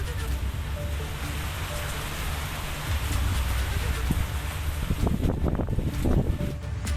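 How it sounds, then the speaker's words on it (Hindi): Heavy monsoon rain in the plains of Uttarakhand: a dense, continuous hiss of pouring rain with wind buffeting the microphone, growing more splattery and intense toward the end. "पहाड़ी इलाकों में इससे भी जोरदार बारिश हो रही है।"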